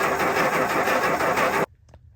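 A 1950 Plymouth engine cranking on the starter, a loud, steady rapid churning that cuts off abruptly, followed by near quiet with a faint click.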